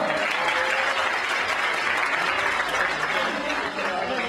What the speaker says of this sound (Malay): Okey, tepuk tangan kepada semua.